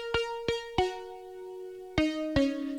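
Sustained synth notes struck one after another, each ringing out with rich harmonics; a few separate attacks with long decays, played alone at moderate volume.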